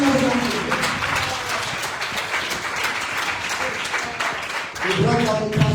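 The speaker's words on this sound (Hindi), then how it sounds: "Give him a big round of applause." Congregation at a Christian service applauding loudly for a visiting pastor, dense continuous clapping with voices and cheers rising near the end.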